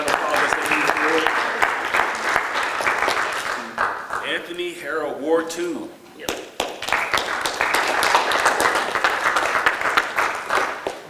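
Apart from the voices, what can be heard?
applause at city council meeting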